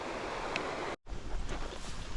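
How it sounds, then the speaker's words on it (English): Outdoor river water flows on a trout-fishing outing, heard as a steady broad rushing wash mixed with wind buffeting, briefly cut off by a moment of silence before resuming, with no talk. "Now we're out in the river, just going to walk up again through this path."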